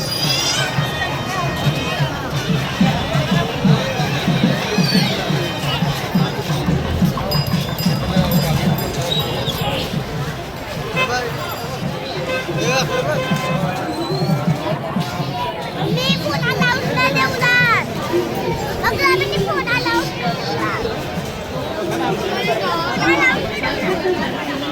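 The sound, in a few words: crowd at Rameshwar temple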